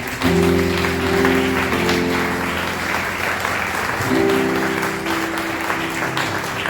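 Applause from a church congregation during a sermon, loud and dense, with sustained organ or keyboard chords sounding underneath the clapping throughout.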